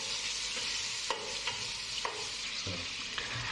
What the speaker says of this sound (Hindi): अब इसमें गोश्त के बड़े पीसेस को डालें और उसको फ्राई कर लेना है।